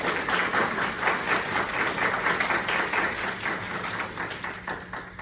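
Seminar attendees clap warmly for a speaker at a national research seminar on nanomaterials, with the applause steady and moderately close and easing slightly toward the end.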